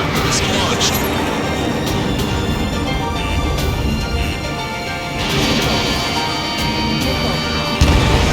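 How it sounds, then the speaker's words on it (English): Missile launches and explosions in the Ace Combat 7 air-combat game come as a dense, loud wash of crashes and booms with sharp impacts scattered throughout, under a continuous roar and intermittent radio chatter. "Warning, enemy has a beat on you. Strider 1, missile launched."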